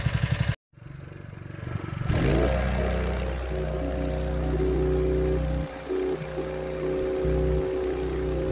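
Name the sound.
fire fighting trailer pump engine idling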